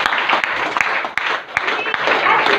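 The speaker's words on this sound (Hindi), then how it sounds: "जोरदार ताली दे सुनीता मान संजय सर के लिए" A crowd at a DXN gathering in Jamui, Bihar gives loud applause for the chief guest and speaker, dense close clapping with sharp individual claps popping out, with a voice speaking over it.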